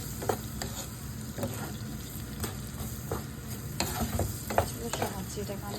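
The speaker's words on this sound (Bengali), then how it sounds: "ফার্স্টে আমি অ্যাড করছি অনিয়ন।" Onions tossed into hot oil left from frying hilsa, for a hilsa and eggplant curry, sizzling steadily with a few clicks of a stirring spoon scraping the pan, all close by and with no talking.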